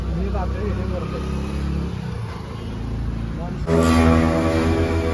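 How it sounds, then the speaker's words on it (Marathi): Cars and motorbikes speed past on a village road during a Ganpati immersion outing, a steady engine rush that swells louder near the end, with people talking over it. "एवढ्या गाड्या फास्ट पळवतात."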